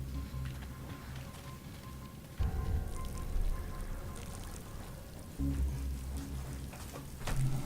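Water running at a urinal in Saw: The Video Game, a soft steady pouring trickle with two louder surges of splashing flow.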